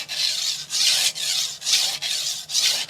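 Repeated full-length knife strokes with light pressure across a 400 grit extra-hard vitrified diamond whetstone, five even rasping passes in a steady rhythm, close and clear with no talking.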